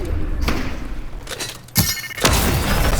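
A shockwave grenade blast in the Fortnite video game, sharp booming thumps that go off close and loud, with two strong hits in quick succession after a lighter impact.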